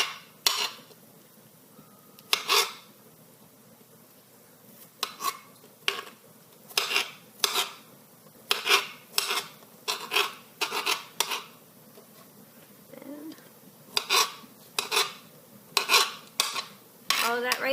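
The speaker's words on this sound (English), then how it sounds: "Then you chop it to the size that you want your tomato chunks in your salsa to be" A knife chops tomatoes for homemade salsa on a board, sharp irregular thuds and clicks coming in quick bursts and pauses, close and clear with no talking.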